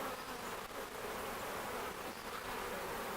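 Honey bees buzz continuously while a hive is split, a dense close swarm hum filling the air at steady loudness with no talking.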